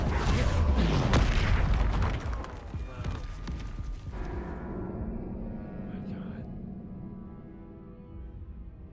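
Spell-casting blasts in the Hogwarts Legacy game: a dense run of booming magical explosions and impacts up front, tailing into a softer rumbling ambience, with a voice speaking beneath the action.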